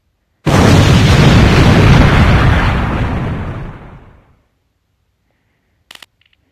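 A bomb hidden in a toy duck goes off in a single huge, close blast whose roar fills the first few seconds and then fades away, followed by a brief faint clatter.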